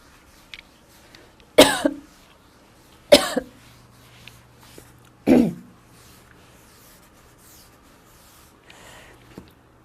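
Three sharp coughs during an accounting lecture, spaced a second or two apart, close by, with a quiet room and a faint hum between them.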